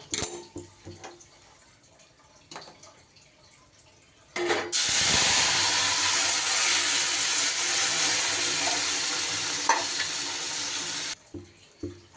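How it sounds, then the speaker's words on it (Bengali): Dal pours into hot oil tempered with five-spice and cumin for a bottle gourd shukto dal, setting off a loud, sustained hiss and sizzle for about seven seconds before it dies down; no voice is heard. "এবার দিয়ে দেব আমি ডাল"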